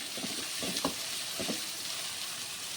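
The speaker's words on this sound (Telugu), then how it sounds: "పేస్ట్, కొద్దిగా పసుపు, కొంచెం పచ్చి వాసన పోయేంతవరకు కొంచెం ఫ్రై చేసుకొని" Ginger-garlic paste with turmeric fries in a pan, a soft steady sizzle broken by a few brief scraping stirs, fairly quiet and with no talking.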